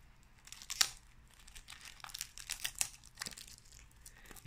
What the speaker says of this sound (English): get the cellophane removed